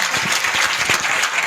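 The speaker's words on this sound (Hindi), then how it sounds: "एक बार जोरदार तालियां दोबारा सपना भटनागर जी के लिए।" An audience at an awards ceremony in Noida breaks into applause for an honoree, a steady, moderately loud wash of many hands clapping without a clear rhythm, no talking over it.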